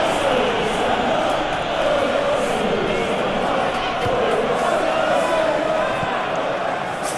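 A football crowd at a Premier League match between Fulham and Arsenal, a steady roar from the stands rising and swelling, with a commentator talking over it.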